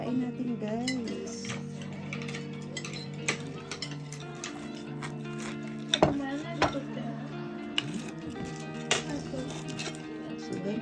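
A knife cuts through a crisp fried homemade tonkatsu pork cutlet, giving a series of sharp, crunchy clicks at an uneven pace over background music and some talk.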